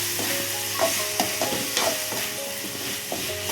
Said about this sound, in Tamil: இப்போ முருங்கைக்காய் சேர்த்துக்கிறாங்க